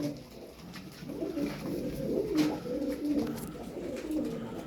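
Mirror-tail (ayna kuyruk) pigeons coo in a low, steady murmur, several birds overlapping close by with soft rolling calls throughout.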